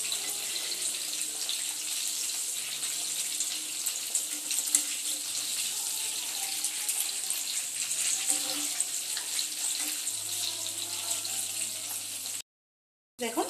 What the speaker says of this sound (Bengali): বড়াগুলো কিন্তু খুব সুন্দর লাল লাল করে ভাজা হয়ে গেছে